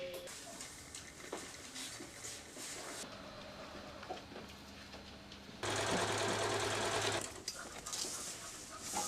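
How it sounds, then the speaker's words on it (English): A sewing machine stitches layers of tulle onto red silk pleats in a couture workshop, its steady whirring hum running throughout and growing louder and denser partway through, with no voices. "It is stitched to the waist and allows the underskirt to be sewn to the lining of the coat."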